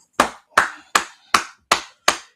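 Six sharp, evenly spaced hand claps at a steady beat, close and clear with silence between each. Heard alone during an online scripture class.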